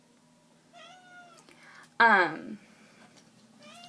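A house cat gives a short meow, then a louder, drawn-out whining meow close up, with someone speaking briefly nearby.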